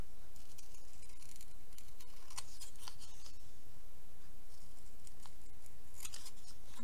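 Scissors snipping through stickers for stamp embellishments, a run of crisp, close cuts in uneven bursts, quiet and alone with no talking.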